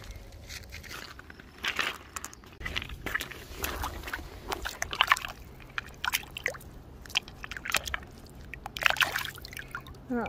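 A dirty, pitted agate is rinsed and scrubbed in water, giving irregular splashing, trickling and rubbing sounds that come in close bursts across the whole stretch with no talk.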